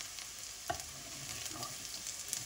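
Chopped garlic sautés in a little cooking oil, producing a soft, steady sizzle with a few light stirring clicks, quiet and close-up.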